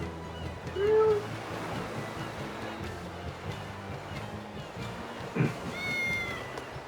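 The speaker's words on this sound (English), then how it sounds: "I hear kitties!" A small black cat in the video game Tales of Berseria meows a couple of times, short mewing calls over a constant wash of ambient sound, with a soft thump in between.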